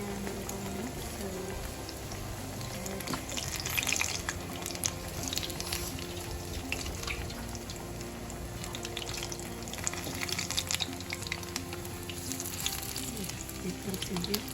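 Chicken frying in a pan for a sesame roast gives a steady, close sizzle and crackle with no break across the whole stretch.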